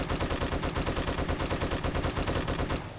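Sustained rapid automatic fire from an M60 machine gun without the rod and spring mod in the video game 7 Days to Die, a loud, dense, unbroken rattle of shots that cuts off near the end.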